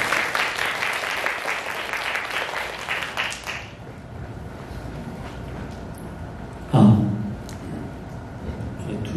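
An audience at a college animation festival event claps in a moderate burst that fades out after a few seconds, leaving a quiet room with one brief thump partway through.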